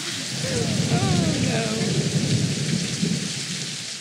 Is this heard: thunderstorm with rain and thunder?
yes